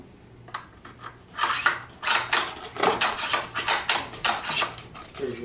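A rifle bolt for a .308-class rifle is handled, giving a run of close metallic clicks, slides and scrapes that cluster densely through the middle and end of the stretch, with no talk over them.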